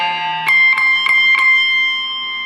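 Four quick plucked electric guitar notes ring out as slow sixteenth notes in an even down-up pattern, each chiming clearly and sustaining into the next.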